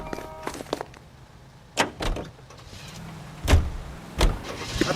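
Car door thunks and vehicle sounds in the crime game L.A. Noire: a couple of sharp door slams and a motor whir spread across a few seconds, close by, with no talk.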